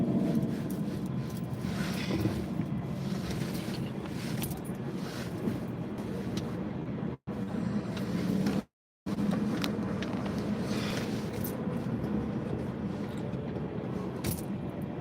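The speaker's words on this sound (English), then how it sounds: "Let me show y'all the traffic." Road traffic with cars passing, a continuous rumble and hiss of engines and tires, with brief cutouts and occasional rattling noises, no speech.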